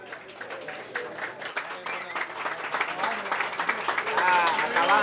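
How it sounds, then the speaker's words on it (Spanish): Applause and clapping from an audience at a cycling award ceremony swell toward the end, heard under someone talking over a public address system. "¡Fuerte el aplauso para Franklin!"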